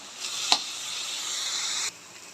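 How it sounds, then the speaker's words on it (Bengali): Chopped leafy greens fry in a pan, a soft click followed by a smooth, steady hiss of sizzling that runs for over a second and then cuts off abruptly. "শাকটা ভাজা হচ্ছে।"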